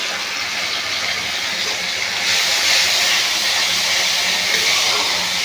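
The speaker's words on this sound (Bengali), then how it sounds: "এবারে আমি দিয়ে দেবো টমেটো, আদা, কাঁচা লঙ্কা, রসুন বাটা দিয়ে দিচ্ছি।" Tomato, ginger, green chili and garlic paste hit reddened frying onions for a Bangladeshi chicken kasha bhuna curry, giving a loud, steady sizzling hiss that swells a little midway and carries on with no talking.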